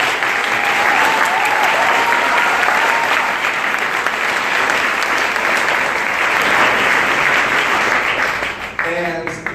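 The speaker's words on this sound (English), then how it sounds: "I do think it is important to just do one more round of applause for everybody" A large audience at a livestreamed competition event applauds loudly and continuously, the dense clapping filling the whole stretch before tapering at the end.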